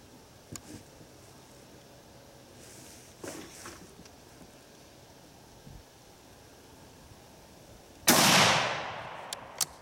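A single loud, close shot from a Howa Snow King centerfire rifle rings out near the end, with a sharp crack and a decaying tail, after a stretch of quiet handling noises.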